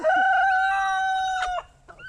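A rooster crows once, loud and near, a sustained ringing call that breaks off abruptly, followed by quiet background.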